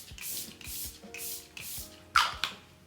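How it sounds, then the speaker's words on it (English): Rare Beauty setting spray is misted onto a face in about six short hissing bursts at an even pace, quiet and close, with no talking. "I'm gonna go in with the Rare Beauty setting spray."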